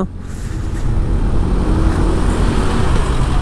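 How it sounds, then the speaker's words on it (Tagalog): Motorcycles speed past on a town road in Santa Maria, Bulacan, giving a loud, steady engine and road roar that holds close and strong for the whole stretch, with no talk. "Ang bibilis magpaandar ng mga motor dito."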